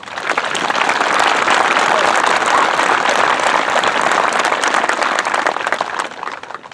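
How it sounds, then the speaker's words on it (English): A graduation ceremony audience breaks into loud, dense applause that builds quickly, holds for several seconds, then thins out toward the close. "Let's give a round of applause for all those people."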